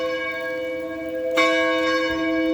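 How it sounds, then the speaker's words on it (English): Church bells ring at an Anglican church in Portland, Ontario, a steady sustained peal with a fresh strike about halfway through, moderately loud and heard alone. "where the bells are ringing there as well"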